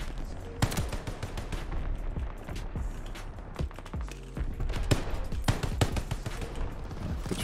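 Rapid BAR rifle fire from a Call of Duty: Vanguard Blitz match at near range, short repeated bursts over a dense layer of battlefield explosions and shooting, with no speech.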